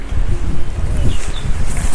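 Strong, gusty wind sweeps through dense trees ahead of monsoon rain near tidal mudflats, a loud continuous roar with buffeting rumble on the microphone and rustling foliage.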